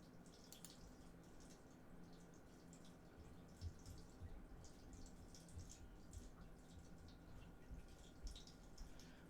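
Water runs or drips steadily somewhere in a room, a faint continuous trickle with small irregular drops, heard alone at low level throughout.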